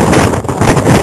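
Strong wind buffeting at the Mt. Pico de Loro summit: loud, continuous roaring gusts blasting right against the listener, with no voices.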